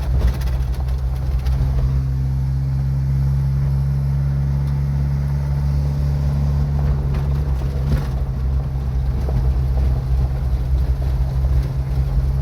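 A Jeep Wrangler YJ Rio Grande driving on an evening ride: a loud, steady low engine drone and road rumble inside the cab, with wind buffeting throughout and no voices.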